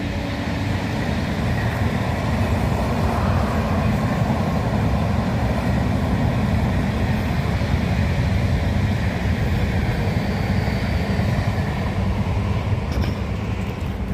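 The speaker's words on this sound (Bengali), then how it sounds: "ট্রেনটা দেখুন কতটা নিচে, দেখুন যাচ্ছে, দেখুন দিব্যিগড় এক্সপ্রেস মনে হচ্ছে।" A passing express train running on tracks below a hillside, making a loud, continuous rumble and rattle of wheels and wagons that holds steady throughout.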